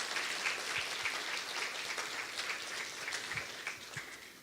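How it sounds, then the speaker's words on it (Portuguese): A church congregation applauds during a service, steady dense clapping from a crowd in a hall, moderately distant and even throughout, with no talk over it. "vamos aplaudir a Jesus e glorificar a Deus por esses irmãos"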